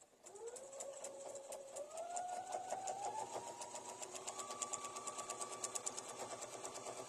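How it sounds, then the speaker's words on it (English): A sewing machine runs steadily, stitching straight across a quilt seam on a small Easter bunny mini quilt, its motor whine rising slightly in pitch as it speeds up, with fast rhythmic needle clatter close by and no talking. "And you just sew right across,"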